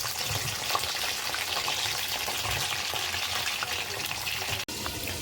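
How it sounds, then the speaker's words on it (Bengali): Sliced pointed gourd (potol) frying in hot oil in a home kitchen, a steady close sizzle running throughout with a brief sharp knock near the end and no talk. "তেল গরম হয়েছে পটলটা দিয়ে দেবো"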